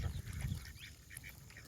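Ducks on a pond quacking and honking faintly at a distance, several short calls scattered across the moment over a low outdoor rumble.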